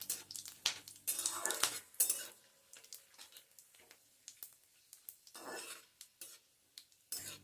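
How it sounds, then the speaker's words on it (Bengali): Dried chillies, cumin and a bay leaf being stirred in hot oil in a pan, a series of irregular scraping and clinking strokes of a utensil against metal, close and fairly loud, with quieter pauses between and a faint sizzle underneath. "এবার এই ফোড়নকে 15 থেকে 20 সেকেন্ড একটু নেড়েচেড়ে নিতে হবে।"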